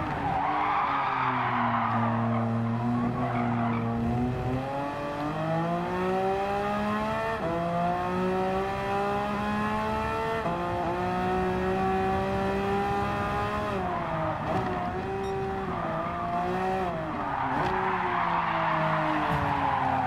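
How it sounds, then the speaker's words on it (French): A Porsche 911 GT3 in Gran Turismo 7 skids through corners, its engine whining in shifting harmonic tones while tires squeal, loud and continuous throughout. "Oh, le dérapage."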